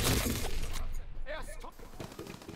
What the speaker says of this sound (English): your shotgun is tickling people.